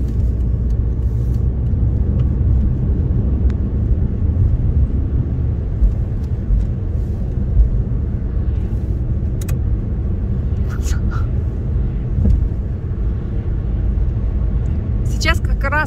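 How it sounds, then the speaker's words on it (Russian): Steady traffic noise from cars passing on a busy road at a fork in Klaipėda, Lithuania, at evening rush hour, a continuous road rumble with a person talking over it. "здесь всегда будет шумно, всегда. Машины едут постоянно."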